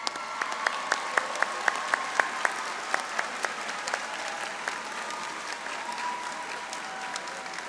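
Graduation audience applauding staff members at a high school ceremony: steady clapping from many hands in a large hall, with sharper individual claps standing out throughout, fading slightly toward the end.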